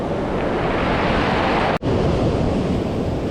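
Sea waves break on a beach during a rough-sea shore fishing session, a steady loud roar of surf mixed with wind buffeting, with one brief dropout partway through.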